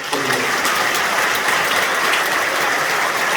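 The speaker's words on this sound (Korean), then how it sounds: "성삼위 하나님 앞에 영광의 박수를 한번 돌려드리겠습니다." Congregation applause at an Easter service, dense sustained clapping from a large gathering, loud and even throughout with no speech over it.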